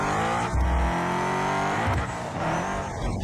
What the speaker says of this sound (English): You don't hear braking, you hear a little bit of tire squealing.